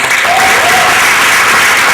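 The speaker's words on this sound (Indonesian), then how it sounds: "Tepuk tangan buat Tuhan Yesus." Loud, dense applause from a crowd at a church youth revival service, steady for the whole stretch, with a faint tonal whistle briefly rising above the clapping.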